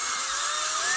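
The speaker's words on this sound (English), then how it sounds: "just come in from the other side with the same drill bit" A power drill spins a bit through a hole from the far side to clean up excess material on a DIY food-container robot prototype, giving a steady high-pitched whine that holds close and loud for the whole second.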